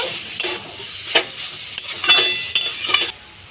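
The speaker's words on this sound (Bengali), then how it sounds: "চিনি দিয়ে নাড়াচাড়া দিয়ে নিয়েছি" A spoon stirs sugar into a Bengali turnip and potato curry (ghonto) in a pot. Close, repeated scraping strokes with metallic clinks ride over a steady bright sizzle, with no talking.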